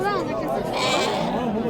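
Lambs bleat with wavering, drawn-out cries at a busy livestock bazaar, loud and close over a murmur of crowd chatter and talk.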